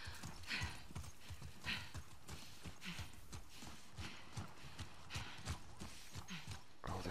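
Horse hooves clip-clop in a steady, rapid rhythm throughout, close and continuous, like a horse trotting along a hard path, in the video game The Last of Us Part II.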